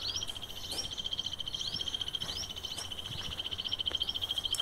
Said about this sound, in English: We can check out bird noise also.